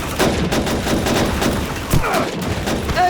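Rapid bursts of MG42 machine gun fire in the World War II video game Call of Duty 2, crackling in quick continuous volleys with sharp gunshots layered over a busy battle din.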